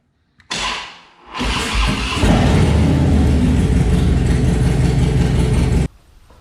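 A Harley-Davidson Dyna FXDLS motorcycle engine cranks over, catches and settles into a loud, steady, close-up idle rumble that runs for several seconds before cutting off.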